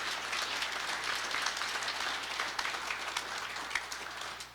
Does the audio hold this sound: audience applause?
yes